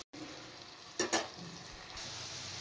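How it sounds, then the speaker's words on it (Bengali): Potatoes with a little salt and turmeric fry quietly in a pan, a soft steady sizzle broken by a couple of brief louder scrapes or stirs near the middle. "সামান্য নুন হলুদ দিয়ে আলুটা একটু ভেজে নিই"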